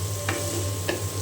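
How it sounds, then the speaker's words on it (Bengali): Papaya and potato bhaji frying in a pan: a steady sizzle with two brief scraping stirs about half a second apart, close by and with no talk. "পেঁপে দিয়ে আলু ভাজিটা অনেকটাই হয়ে এসেছে। আমি আর একটু ভেজে"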